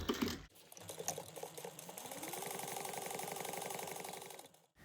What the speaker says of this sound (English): I'm going to go ahead and top stitch at 1/8 of an inch